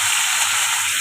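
Curry leaves crackle and sizzle in hot oil, a steady bright hiss filling the pan throughout, close and fairly loud with no voices over it.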